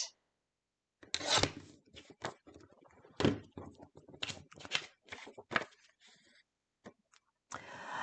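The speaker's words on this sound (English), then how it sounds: "And this photo here, I need to trim 3/8 of an inch." Paper photo being trimmed for a scrapbook layout, a run of short, close scraping and cutting strokes in uneven bursts with brief pauses, no talk.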